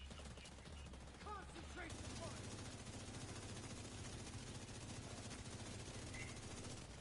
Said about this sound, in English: He said concentrate your fire, so we literally did.